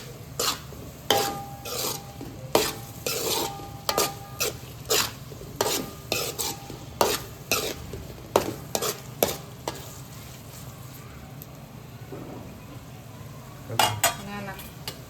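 Paneer being stirred into tawa pulao in a metal pan, a spoon scraping and clacking in a quick irregular rhythm of sharp strokes over a low steady background hum, with a short pause before a final burst of scraping.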